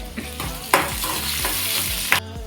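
Ingredients sauté in a pan while fish curry is being cooked, with a steady sizzle, repeated stirring scrapes and a couple of sharper clinks.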